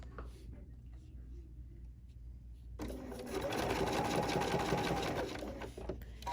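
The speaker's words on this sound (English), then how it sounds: "I can see exactly where I'm stitching on this white line" A sewing machine fitted with an open-toe foot stitches along a white line, a quiet lead-in giving way to a steady, fast mechanical whirring with rapid needle clatter that fades near the end.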